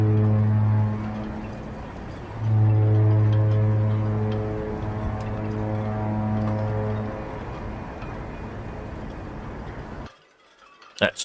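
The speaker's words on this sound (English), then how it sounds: "That's three honks on the horn for Britannia." The cruise ship Britannia sounds three long blasts on its deep horn at Southampton port, each a loud steady low tone, then quiet with a faint clatter at the end.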